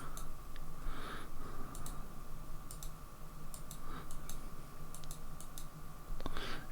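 A computer mouse clicks repeatedly while selecting shapes in Photoshop, giving sharp, close ticks in irregular bursts with short pauses over a steady electrical hum.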